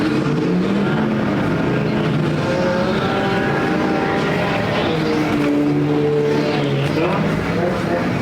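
Race cars roar around the Perris Auto Speedway dirt track during a demo cross heat, engines droning loud and steady with rising and falling pitch as they pass, an announcer talking over them.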